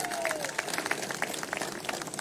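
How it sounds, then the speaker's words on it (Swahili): An audience at the Africa Climate Summit declaration ceremony at KICC in Nairobi breaks into scattered applause, with light, uneven claps heard from a distance across a large hall. "Pigeni makofi jameni."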